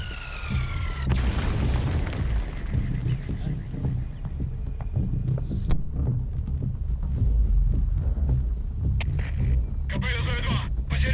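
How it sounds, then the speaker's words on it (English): Mortar strikes land in Metal Gear Solid V as a series of deep, rumbling booms that roll on beneath a low hum and radio-like chatter, with a few sharper impacts and bursts scattered throughout. "Shooting mortar strike at us again."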